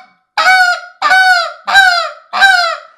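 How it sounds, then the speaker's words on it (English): A Buck Gardner short reed goose call made of acrylic is blown in four loud, close honks, evenly spaced about every 0.7 seconds, each a sharp clucking honk with a quick break and no talking. "It's a nice little short reed goose call."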